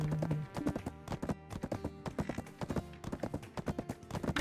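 Horse hooves clip-clop in a steady, lively rhythm inside a video game, loud and close, with a few brief tonal game sounds near the start and no talking.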